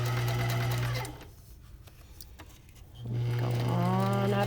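Sewing machine stitching a fabric pocket, loud and close, running steadily, pausing briefly in the middle, then starting up again.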